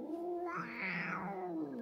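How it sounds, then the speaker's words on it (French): Cat crying out while being brushed, giving one drawn-out, wavering yowl that rises and falls in pitch, close and fairly quiet. "il ne faut pas vous arrêter au cri si jamais vous êtes en train de brosser votre chat"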